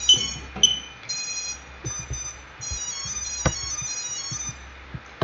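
Electronic beep tones from the ESCs of a Tovsto Falcon 210 quadcopter right after the battery is plugged in during motor calibration, a series of short high chirps and repeated beeps, fairly clear over faint background clicks.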